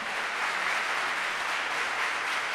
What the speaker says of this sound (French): On applaudit Ricardo Edouard, le capitaine du collège Catherine Flon.